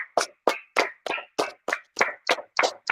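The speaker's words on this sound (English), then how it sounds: "Let's clap it up." Audience clapping in unison at a religious gathering, about ten sharp, evenly spaced claps in a steady rhythm at close range, with no voices over them.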